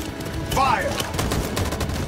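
A burst of gunfire in the Detroit: Become Human video game, a short rattling volley of shots set against a background hum of game sound.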